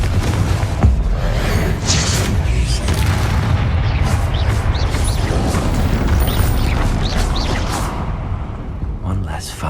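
Confringo spell explosion in the Hogwarts Legacy video game, a heavy booming blast with rumbling low end and whooshing debris that stays loud and sustained, mixed with game effects.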